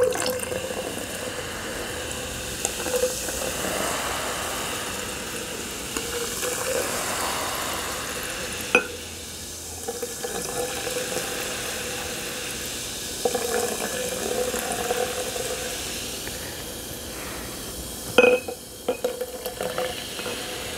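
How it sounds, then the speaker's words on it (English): Vinegar poured onto baking soda in a kids' dancing-popcorn experiment fizzes with a steady soft hiss and crackle throughout, broken by a few light knocks. "when you mix a baking soda with vinegar"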